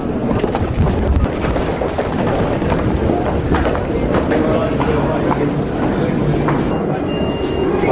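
A London Underground train rumbles and clatters loudly at Victoria station, with rattling metallic noise and a recorded announcement voice saying to mind the gap over the din.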